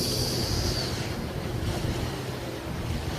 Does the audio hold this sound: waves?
yes